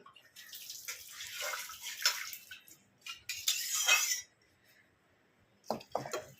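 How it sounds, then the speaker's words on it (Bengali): Water is poured in two bursts into a pot of black chickpea curry, each a bright rushing splash of a second or so, with a brief clink of utensils after a pause. "এবার আমি জলটা ঢেলে দেবো।"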